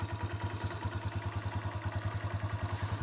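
A Loncin JL150-68 CR1 motorcycle engine with ten thousand on the odometer idles close by with a fast, even, throbbing rhythm and a slight mechanical clatter.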